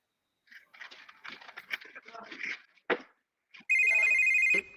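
A telephone rings loudly with a steady electronic tone late on, alone after a stretch of people talking and a sharp knock.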